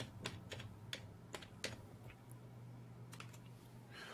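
Keys clack in a quick burst of separate, fairly sharp strokes on a computer keyboard as about:config is entered into the Firefox address bar, over a steady low hum, then the typing stops.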